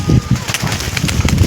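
A frightened Andra-bred pigeon held in the hand flutters and gives short cooing bursts. The sounds come close and fairly loud, in a choppy, uneven rhythm.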